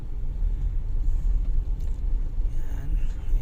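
A car's low engine rumble heard from inside while driving home, a steady muffled drone with road noise and no talking.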